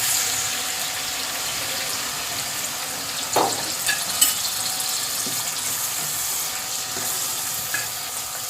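Chicken pieces frying in a pan for a pickled chicken curry (achar gosht), giving a steady broad hiss of sizzling oil with a few brief clinks and stirring sounds, close and fairly soft, no talk.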